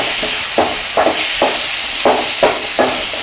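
Tomatoes sizzling and frying in a pan while being stirred for crab gravy, with steady spoon scrapes recurring every half second or so over a constant loud sizzle.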